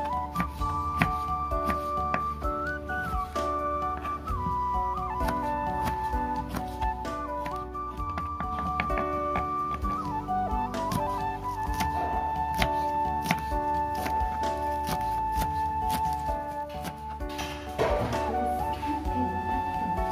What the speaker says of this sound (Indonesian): tomatnya kita iris juga